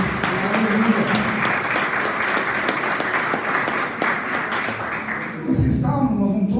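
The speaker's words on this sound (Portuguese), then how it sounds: "Vamos aplaudir o Senhor." A church congregation breaks into dense, sustained applause, many hands clapping together at close range, which cuts off abruptly near the end as a voice comes through.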